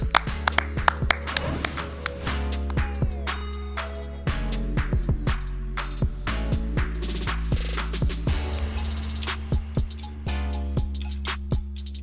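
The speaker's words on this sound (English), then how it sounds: "Clap it up." Sharp, close claps and taps ring out at an uneven pace over a steady low hum, with brief pauses, at the close of a sports talk show.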